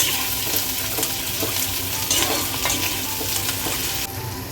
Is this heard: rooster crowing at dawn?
no